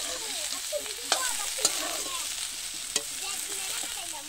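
Jackfruit pieces fry in hot oil with a steady sizzle while a spatula scrapes and stirs, giving a few sharp clinks against the pan; close and continuous, with no talking.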